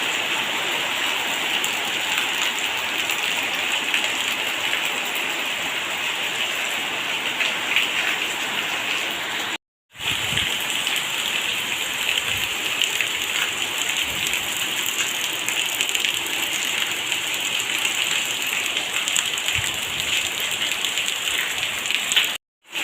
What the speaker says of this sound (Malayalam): പെരും മഴ വന്ന് അപ്പോഴത്തേക്ക് ഭയങ്കര മഴ, വലിയൊരു മഴ വന്ന് കാറ്റ്